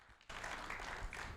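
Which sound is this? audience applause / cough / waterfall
audience applause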